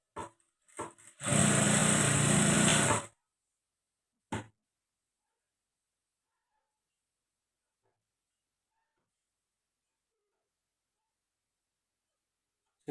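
A sewing machine runs one short burst of stitching on a blouse seam at a quarter-inch margin. A couple of faint clicks come before it, and a single tap follows before a long silence.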